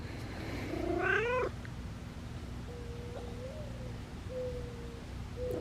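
A cat gives one drawn-out, wavering meow near the mic, then a few thin, high chirps follow over a steady low background hum.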